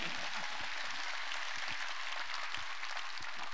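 A church congregation claps together at a Korean revival-style worship service, a dense, steady patter of many hands that holds at a constant level throughout, with no voices standing out.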